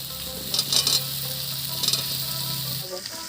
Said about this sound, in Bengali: এবার দিয়ে দিচ্ছি ভেজে রাখা এঁচোড়ের টুকরো আর আলুর টুকরো।